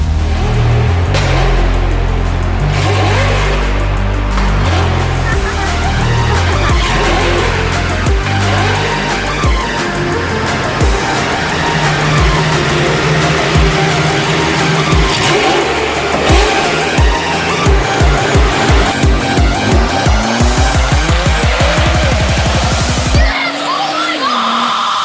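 Sports cars race on a track at a car enthusiasts' event, engines loudly revving and rising through gears, with several cars roaring past in quick succession and tires squealing, ending in a sudden cut.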